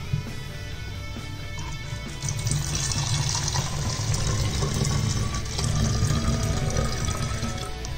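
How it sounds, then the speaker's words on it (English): Steady rush of deionized water pouring into a bottle, continuous and fairly loud, growing fuller after a couple of seconds, with no talking. "So now we fill the bottle with the deionized water."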